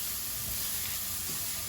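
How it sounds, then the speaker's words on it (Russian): Onion and carrot fry in a pan with a continuous soft sizzle and hiss, steady and close, and no voices over it. "Вот так вот быстренько обжаривается."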